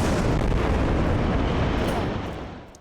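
Explosions from strikes rumble through the suburbs of Beirut, Lebanon, as a dense, continuous roar that fades away in the final moments.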